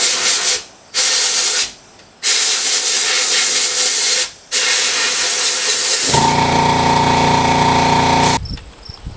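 Bead blasting parts inside a blast cabinet: loud, steady hissing bursts of blasting media that start and stop in several sections, ending with a harsher, tonal hiss before cutting off.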